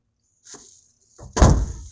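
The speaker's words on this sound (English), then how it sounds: "I gotta make sure this door slams shut." A vehicle door slams shut late at night outside a gym building: a short soft rattle, then a solid, heavy close-up thud, with a faint high background tone throughout.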